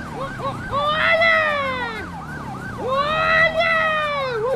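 A police car siren in the video game GTA V wails in repeated rising and falling sweeps, loud and close, over a low engine rumble, with brief voices mixed in.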